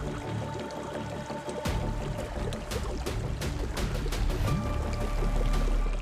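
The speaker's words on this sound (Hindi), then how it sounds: "बहते पानी की ये आवाज कभी भी मौत बनकर बरस सकती थी।" Water flows steadily through the Patalkot gorge in Madhya Pradesh, a continuous rushing wash that grows slightly denser after the opening seconds and keeps a broad, even roar to the end.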